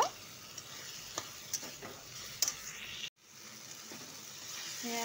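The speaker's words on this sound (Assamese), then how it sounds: "এটা দুটা বিলাহী সিজিব বাকী আছে, এইখিনিও অকণমান সিজি লওক" Tomatoes cook in a pan for a village egg dish, a steady low sizzle with a few soft stirring scrapes and brief clinks, close and fairly quiet, with a short silent gap midway.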